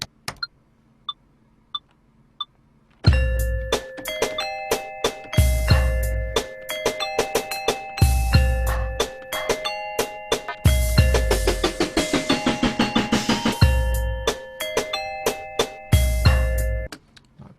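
Layered bell tones programmed in music-making software, a steady rhythmic pattern of bright, ringing chimes stacked over a pulsing low beat, loud and continuous after a few sparse opening pings.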